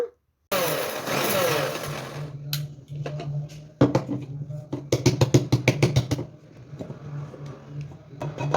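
A kitchen mixer grinder runs in bursts, blending fried chana dal with sesame and poppy seeds into a coarse powder, with loud whirring spans broken by short pauses and a rapid rattling pulse of dry grains near the end.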